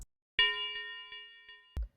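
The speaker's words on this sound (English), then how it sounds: "A little tubular bell." A single tubular bell note in a hard melodic beat rings out clearly with a bright metallic attack, sustains and slowly decays, and is then cut off by a short low thump.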